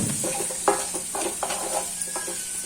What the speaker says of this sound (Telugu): ఇలా స్మెల్ అంతా పోయేలాగా వేయించుకోవాలి బాగా